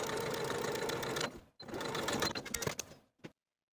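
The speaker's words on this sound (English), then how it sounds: "Then I'll edge stitch close to my finishing stitches straight across from one side of the pocket to the other" A sewing machine edge stitching a jacket pocket runs in a dense, rapid mechanical chatter, pauses briefly, then runs again before stopping, loud and close.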